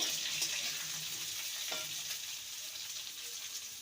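Eggplant sizzles in hot oil in a pan as it is stirred, giving a steady, close frying hiss with a few light scrapes of the spoon and no talking.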